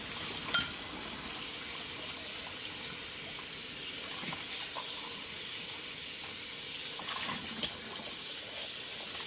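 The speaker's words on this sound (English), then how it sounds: "I'm using the water to actually do double rinsing." Pressurized water spray rinsing grease off surfaces with dish soap, a steady hissing wash that holds throughout, broken by a couple of brief sharper splashes near the start and end.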